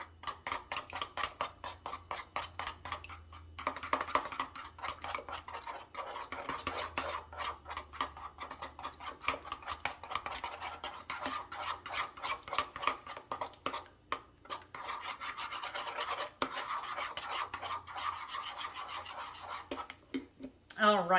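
Salad being mixed in a bowl, with steady scraping and clinking of utensils against the dish in a rhythmic, fairly close series lasting throughout, with a voice talking now and then.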